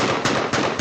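Rapid gunshots fired at a van, a loud burst of three sharp cracks at even intervals over constant broadband noise, with no voices.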